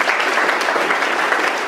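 Guests at a golden wedding anniversary ceremony in Marly burst into loud, close applause for the couple, a dense, continuous wash of many hands clapping through the whole moment.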